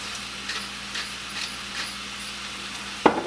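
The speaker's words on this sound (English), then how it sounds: "now I'm just going to let this cook up and get the meats all cooked through and the onions and carrots tender" Meat, onions and carrots cooking in a pan give a soft, steady sizzle with faint periodic stirring scrapes under a low background hum, then a sharp clank of a utensil or lid near the end.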